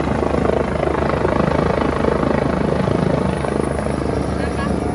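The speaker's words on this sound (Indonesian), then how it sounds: "Lihat helikopter." A helicopter in Cape Town thunders close by with a loud, steady rotor chop and engine roar, and voices can be heard beneath it.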